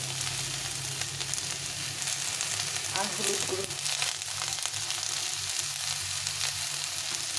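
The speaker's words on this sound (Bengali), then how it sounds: "দিয়ে আবার একটু ভালো করে ভেজে নিতে হবে।" Vegetables with aubergine sizzle steadily in hot oil in a pan as salt and turmeric go in, a continuous close frying hiss with a brief stir near the middle and someone speaking over it.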